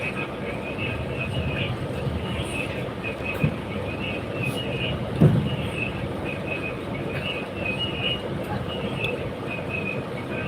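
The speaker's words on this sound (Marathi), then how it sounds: "आता मी प्रवास करतो आहे सध्या ट्रेनमध्ये आहे" Steady rumble of a moving train from inside the carriage on a journey to Solapur past Karjat, with rhythmic wheel clatter and a couple of brief knocks.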